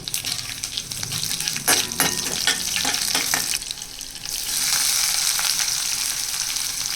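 Green chillies, peanuts and split chickpea and black gram lentils sizzle and crackle in hot oil in a pan for upma, a steady fry broken by a few brief stirring scrapes.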